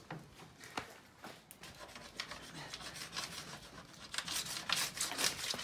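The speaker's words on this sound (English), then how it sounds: "the scraping of the board is probably the most intense action of the whole waxing, tuning of your board" A scraper drags steadily across a waxed board, removing excess wax in repeated rasping strokes that grow louder and brighter toward the end, close up with no talking.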